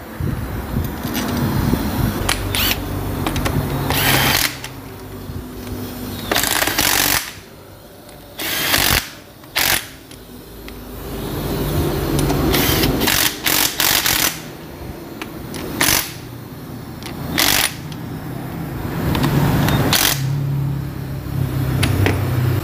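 Crankcase bolts being fitted and tightened on a Honda Tiger motorcycle with an air or power tool, loud whirring bursts of varying length separated by short pauses over a noisy workshop background, no speech.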